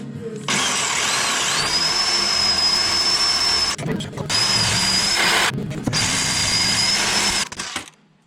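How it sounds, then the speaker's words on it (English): Power drill whining loudly and steadily close by during a transmission swap on a 2007 Silverado 1500, three sustained runs broken by two short pauses, with no talk. "Now I gotta try to drill this thing."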